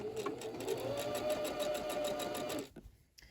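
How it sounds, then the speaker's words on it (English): A sewing machine runs parallel rows of stitching on wrap pants, a steady close-up motor whir with even rapid needle pulses that stops abruptly near the end. "I'm just going to continue this parallel stitching all the way out to the edge"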